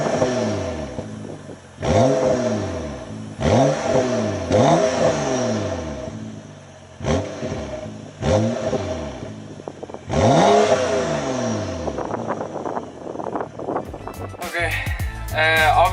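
A car with a muffler delete and an H-pipe revs repeatedly, each throttle blip rising and falling in loud, raspy bursts from close by, with short idle gaps between pulls.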